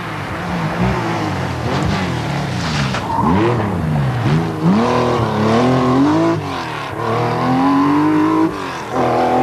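A Porsche rally car races flat out along a fast, smooth, open stage of the 1984 Circuit of Ireland Rally, its engine loud and close, rising and falling in pitch through gear changes, with no voices.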